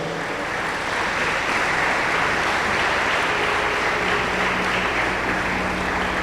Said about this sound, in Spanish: Le pido un aplauso al Señor con todo el corazón